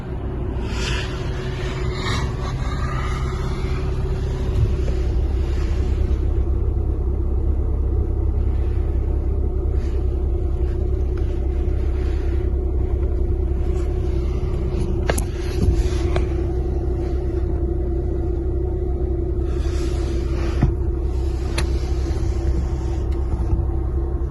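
Steady low engine rumble inside a Hyundai i20 with a 1.4 MPI naturally aspirated petrol engine, Jump trim, droning continuously and evenly at idle or light load with no talk.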